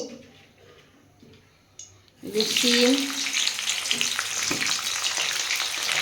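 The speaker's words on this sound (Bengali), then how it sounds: "দেখুন বন্ধুরা আমার তেলটা গরম হয়ে গেছে আমি এর মধ্যে এবার শীতের সবজিগুলো একটু ভেজে নেব" Winter vegetables such as capsicum and carrot hitting hot oil for a chicken dish, a quiet start giving way to a loud, steady sizzle and crackle that fills the rest of the moment.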